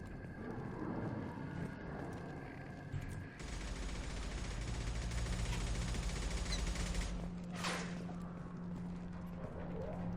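Gunfire in the video game Mass Effect 2: dense, sustained bursts of shots over a continuous battle din, with a sharp louder burst near the end.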